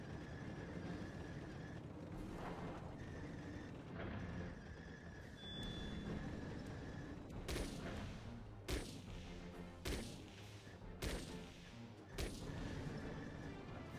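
Distant bombardment and gunfire in the mech combat game Chromehounds: a steady rumbling battlefield bed with repeated sharp bursts and heavy impacts in the second half, and no talking.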